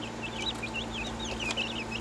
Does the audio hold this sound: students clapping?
no